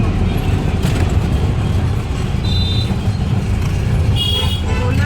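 A three-wheeled tuk-tuk rides through Indian traffic in Ahmedabad, its engine droning steadily and close throughout, with a couple of short horn toots sounding from nearby vehicles.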